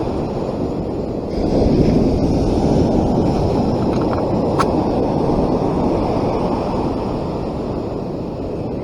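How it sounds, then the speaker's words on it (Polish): Broad rushing roar of Baltic Sea waves breaking on Stogi beach in Gdańsk, swelling after the first second and holding steady, with some wind buffeting the microphone. "Zobaczcie jakie piękne fale."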